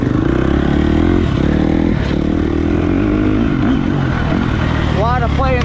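A 2020 Husqvarna 350 dirt bike engine runs loud and steady close by, its tone rising and falling slightly with throttle, with a brief sweeping squeal near the end.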